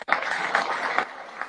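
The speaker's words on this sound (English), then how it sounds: "give him a round of applause" Brief audience applause, fairly close and steady, with clustered claps during a live Instagram show, fading slightly at the end.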